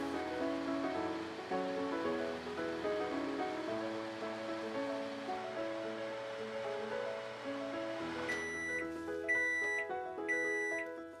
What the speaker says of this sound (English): When the timer goes off, take the chip plate out of the microwave and turn the chips over.